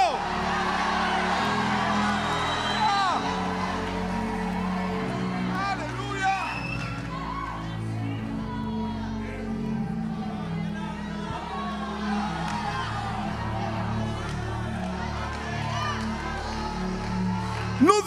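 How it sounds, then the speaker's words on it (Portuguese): A church congregation shouts and cheers together, with whoops and loud crowd voices rising over a dense, sustained roar that stays strong throughout. "no fica en silencio, no fica sentado, da un grito."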